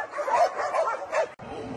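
Several dogs bark and yip in quick bursts inside a shelter enclosure, the barking moderately close and overlapping, with a brief pause near the end before more barking resumes.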